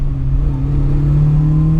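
A BMW M3 E30 engine hums steadily at a low pitch and builds slightly toward the end, a close, continuous drone with no talking.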